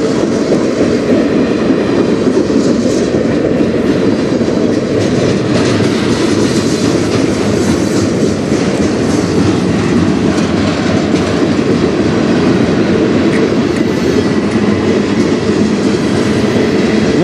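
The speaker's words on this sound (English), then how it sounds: "Surprise train, we heard nothing on the radio again." A freight train rolls past on the Strathroy Subdivision near Sarnia, a loud, close, continuous rumble of wheels and cars with steady clickety-clack that holds for the whole stretch, with no voices.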